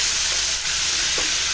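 Capsicum, carrot and tomato sauté in a hot pan, giving a close, continuous sizzle and hiss with light stirring scrapes.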